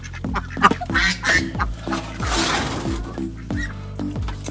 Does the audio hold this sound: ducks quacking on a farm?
yes